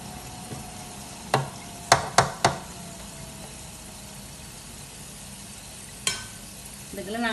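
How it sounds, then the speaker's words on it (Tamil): Capsicum frying in a fryer makes a soft steady sizzle, broken by several sharp clacks of stirring or utensil knocks, close by and without speech. "நீங்கள் அடுப்பில் பொரிக்கிறத விட இந்த ஃப்ரையரில் பொரிஞ்சிங்கன்னு சொன்னால் கொஞ்சம் குயிக்காக"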